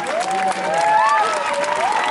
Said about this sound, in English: Children, give them a big round of applause.